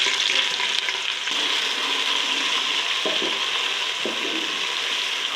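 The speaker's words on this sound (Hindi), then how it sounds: "तेल गर्म है और मैंने इसमें प्याज डाल दिया।" Steady, close sizzling of onions frying in hot oil, a continuous crackling hiss with a few soft stirring knocks and scrapes near the end; no one speaks.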